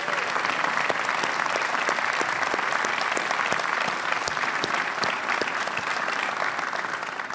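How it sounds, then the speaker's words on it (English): Sustained applause from a large audience at a university commencement ceremony, dense, even clapping that holds steady throughout and eases slightly at the end. "How about a round of applause for everyone who made this possible?"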